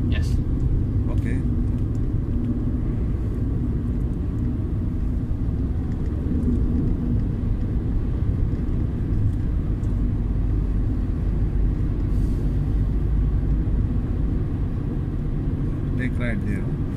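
Car driving during a driving lesson in Ajman, a steady low engine and road rumble heard from inside the cabin throughout, with people talking over it now and then.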